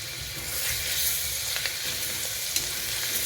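Ginger-garlic paste frying in a pan for chole, a steady close sizzle and crackle with faint stirring scrapes and no talk.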